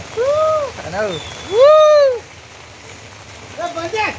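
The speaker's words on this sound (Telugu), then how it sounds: "నిన్న నుంచి ఫుల్ వర్షం" Steady rain falls in a Telugu village, a soft continuous patter that runs under bright, rising-and-falling chirping calls repeated through the clip.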